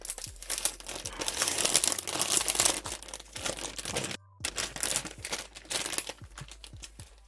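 Plastic packaging holding a Dollfie Dream body suit is opened close up, with crinkling and tearing in bursts, a short pause, then more rustling.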